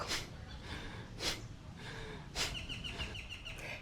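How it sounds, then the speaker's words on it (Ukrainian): Sharp, energetic breaths in and out during a quick morning wake-up breathing exercise, three forceful bursts spaced about a second apart, close and fairly loud with no talking. "Різкий вдих, різкий видих."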